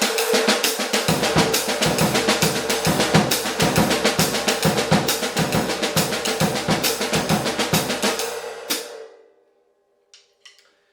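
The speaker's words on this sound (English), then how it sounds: "Example number 3, left hand fills in the last two portions of the triplet, bass drum reads." A jazz drum kit plays a syncopation exercise, the left hand filling the last two parts of each triplet on the snare while the bass drum reads the rhythm, loud and close for nearly nine seconds, then a few faint taps.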